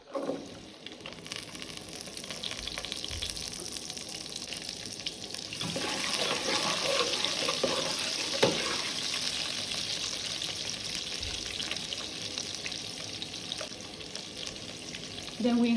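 Chopped onions sizzling in hot red palm oil in a pot, a steady crackling hiss that swells and settles with occasional stirring clinks, no talk.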